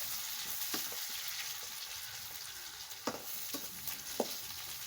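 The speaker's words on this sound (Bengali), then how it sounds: "এখন পেঁয়াজ ভাজা কিছুটা দিব ওর মধ্যে।" Onions fry in a pan for cooked greens, a steady close sizzle with a few light stirring clicks and no voices.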